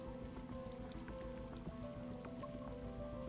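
Water dripping and trickling from a bullet-riddled aquarium in the stealth game Bright Paw, a steady wet patter with scattered drips over a constant low ambient hum, no voices.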